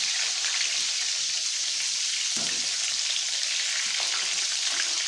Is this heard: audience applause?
no